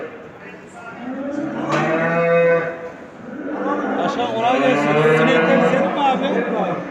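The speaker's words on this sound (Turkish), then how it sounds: "Şu içeride bir süt inekleri var." Several dairy cows moo loudly nearby at a livestock market in Ankara, long drawn-out lowing calls overlapping one after another, with faint chatter in the background.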